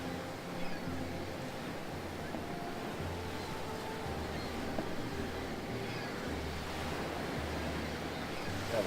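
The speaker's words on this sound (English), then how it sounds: "That water is really loud." Steady rushing water and surf fill the whole stretch, a constant loud wash with low hum underneath and no pauses, in Baldur's Gate: Enhanced Edition.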